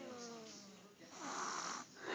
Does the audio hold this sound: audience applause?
no